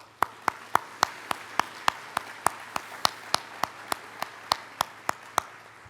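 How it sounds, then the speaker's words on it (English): A single person claps slowly and evenly, about three claps a second, sharp and close against a quiet room hum, at a conference plenary session. "I'd like to give them a round of applause"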